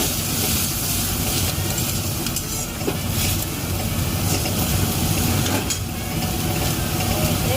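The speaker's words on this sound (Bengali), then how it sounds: "আদা বাটা দেব, ভালো করে মশলাগুলো একটু নাড়াচাড়া করে" Spices and ginger paste fry loudly in a pan for homemade mutton biryani, a dense continuous sizzle with scraping stirs, close and steady throughout.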